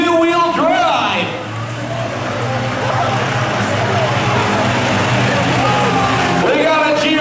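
A two-wheel-drive truck slides through a mud pit, its engine droning loudly and steadily while a crowd murmurs and talks in the background.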